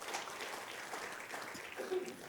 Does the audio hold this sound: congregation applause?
yes